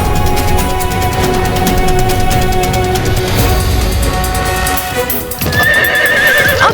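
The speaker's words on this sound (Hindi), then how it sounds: "वो रहा अश्व।" A horse neighs loudly and close, with clip-clopping hooves running underneath in a steady rhythm, and a rising whinny near the end over a dense, busy dramatic backdrop.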